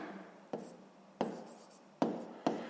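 Pen or chalk writes a math note by hand during a sixth-grade geometry lesson: faint scratchy strokes broken by four sharp taps at irregular intervals, quiet and close, with no talk.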